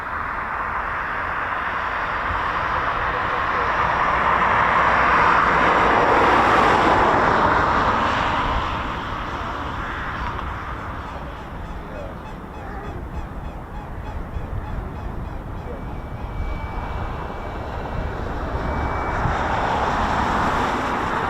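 A Supermarine Spitfire PR XI flies over an RAF base, its piston engine a broad, distant drone that swells to a peak and then fades, returning faintly later, with no one speaking.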